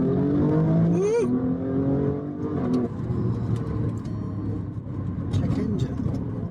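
An Italian car's engine revs hard from inside the cabin, climbing and falling in pitch over several seconds, loud and continuous, with people talking and whooping over it.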